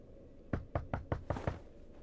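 Six firm knocks land on an apartment door in The Wolf Among Us, struck in a steady, even rhythm at close range with nothing else heard.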